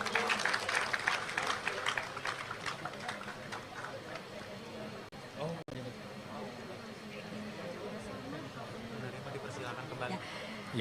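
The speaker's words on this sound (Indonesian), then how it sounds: "Boleh tepuk tangan sekali lagi hadirin sekalian." Audience applause at an Indonesian Independence Day ceremony for award winners, a sustained wash of clapping from a large crowd, steady throughout with a brief dip midway, alongside a loudspeaker voice.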